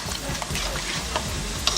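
Raw beef being mixed by hand with jerk marinade, giving a continuous wet, squelching stir with soft slaps and clicks close to the microphone.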